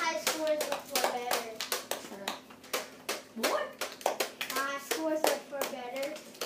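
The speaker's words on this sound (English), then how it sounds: "Give him a applause, everybody" A small group clapping in applause during a backyard NERF war game, quick uneven claps close by with voices talking and someone speaking over them.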